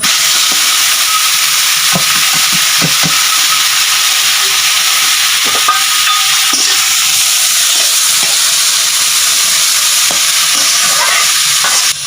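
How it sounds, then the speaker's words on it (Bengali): Boiled ghetkol leaves fry in hot oil in a pan, giving a steady loud sizzle and hiss throughout, with occasional clicks and scrapes of stirring. "এবারে সিদ্ধ করা গাটকলগুলো একটু তেলে দিয়ে বেজে নেব"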